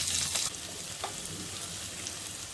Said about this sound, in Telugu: ఉల్లిపాయ ముక్కలు, పచ్చిమిరపకాయ ముక్కలను వేసుకొని వేయించుకోవాలి.